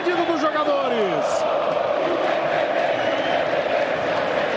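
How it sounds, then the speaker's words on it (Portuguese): A packed Morumbi stadium crowd at the Copa do Brasil final between São Paulo and Flamengo roars continuously, a dense, loud wall of cheering with a few whistles early on. "o Morumbi está absolutamente lotado e a torcida segue o pedido dos jogadores"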